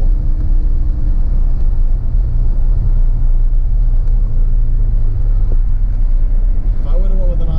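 A DeLorean with a manual transmission driving along, its engine and road rumble holding a steady, loud, close drone throughout, with a brief rising whine near the end.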